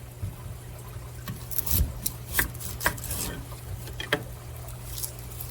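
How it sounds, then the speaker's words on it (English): A knife minces a whole onion on a cutting board, producing a run of close, uneven chopping taps under a steady low background hum. "you're going to use 1 whole onion. And you're going to mince this."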